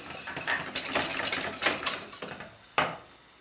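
A utensil scrapes and clinks against a metal pot in quick irregular strokes, stirring a flour custard mixture, close and fairly loud, then a final clank before it stops.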